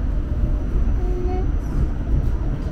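New York City subway N train running, a loud steady rumble of wheels and carriage noise with a brief squealing tone in the middle, and people talking over it.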